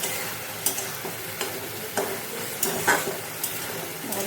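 Garam masala frying in a pan for a taro and chickpea curry gives a steady soft sizzle, broken by regular light scrapes of stirring about every half second, close and fairly quiet.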